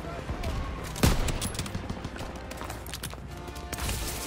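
Enemy gunfire in the World War II shooter Call of Duty WWII, a sharp nearby shot followed by scattered rapid firing and battlefield noise, with faint voices in the mix.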